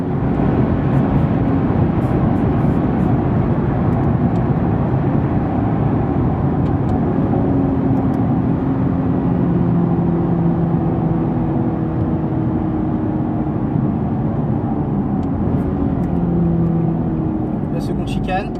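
Nissan 370Z GT4 race car flat out on the Hunaudières straight at Le Mans, engine droning steadily and loudly throughout with a slowly shifting pitch, heard from inside the car.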